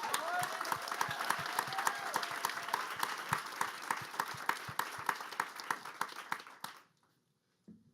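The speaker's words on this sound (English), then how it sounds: "I'd like to have a round of applause for everything that you guys have accomplished." Steady applause from a crowd at a tech demo day at Google headquarters, dense clapping that fills the room for several seconds before cutting off, followed by a brief quiet moment.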